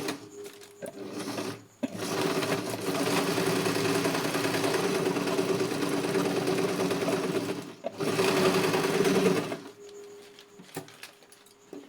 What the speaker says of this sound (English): This is how you are to sew your dart